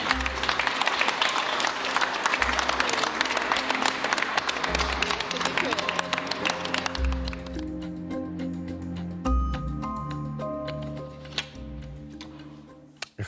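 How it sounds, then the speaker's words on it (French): Dense clapping from a crowd fills the first seven seconds, loud and steady, then fades into quieter room sound with a few scattered claps. "Vous pouvez vous applaudir parce que vous avez été très loin dans la résolution."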